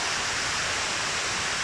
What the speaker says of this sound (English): The main highlights of this tour is this waterfall over here.